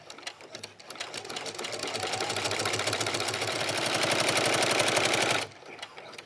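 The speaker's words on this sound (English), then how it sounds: "using the walking foot on the sewing machine, it really helps everything go smoothly" Sewing machine fitted with a walking foot stitching a patchwork dog leash strap, a fast steady mechanical chatter running close and loud for about five seconds before cutting off.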